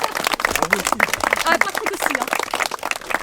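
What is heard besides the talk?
audience clapping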